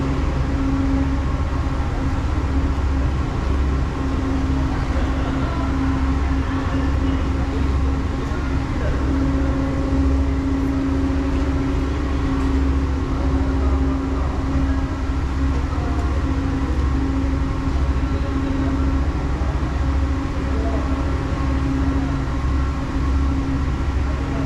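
The Luton DART airport shuttle train arrives with a steady loud rumble and low hum that persist throughout, heard from close by at a station platform.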